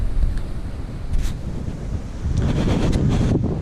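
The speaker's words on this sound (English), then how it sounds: "windy today" Strong outdoor wind in Melbourne buffets the microphone with loud, continuous rumbling gusts that swell and ease over a few seconds.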